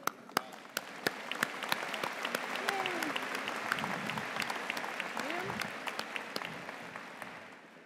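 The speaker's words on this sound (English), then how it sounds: "we join your family and friends in applauding you" A commencement crowd at UMass Lowell applauds the graduates, a steady wash of clapping with sharp nearby claps standing out and a few cheers rising inside the hall, moderately distant.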